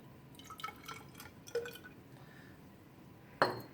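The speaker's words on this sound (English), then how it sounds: "Then in the other container I have iodine crystals in which I'm going to add water." Water is poured and dripped into a glass container holding iodine crystals during a chemistry demonstration, giving soft trickles, drips and light glass clinks, ending with a sharper clink near the close.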